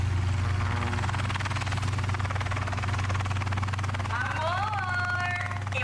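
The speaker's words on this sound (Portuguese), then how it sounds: "Ela não viu o helicóptero que eu comprei" A helicopter's rotor drones continuously with a steady low thrum and buzzing pulse, loud and close throughout, while a voice speaks over it.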